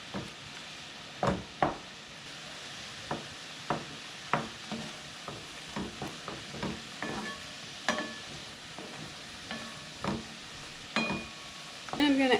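Candied tamarind mixture cooking in a pan, a soft bubbling sizzle broken by repeated sharp scrapes and knocks of a spoon stirring, close and fairly quiet.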